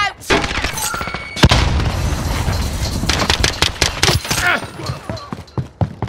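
Explosions and rapid gunfire in Call of Duty Modern Warfare multiplayer, with a heavy blast near the start followed by dense bursts of shots and sharp cracks that continue throughout, loud and busy with voices in the background.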